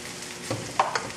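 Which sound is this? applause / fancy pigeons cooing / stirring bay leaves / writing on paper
stirring bay leaves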